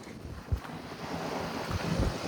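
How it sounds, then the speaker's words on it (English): Wind gusting outdoors at a home courtyard, a broad steady rush with low buffeting thumps against the microphone, loud and close throughout. "it's just the wind"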